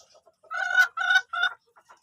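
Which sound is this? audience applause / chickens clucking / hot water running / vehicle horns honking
chickens clucking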